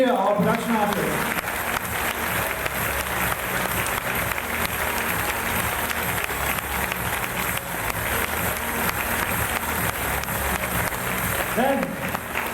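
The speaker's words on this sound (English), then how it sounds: "a big round of applause for Enrique, our production artist" Loud, sustained applause from a large convention audience at a furry puppet stage show, steady broadband clapping filling the whole stretch with a brief voice near the start and end.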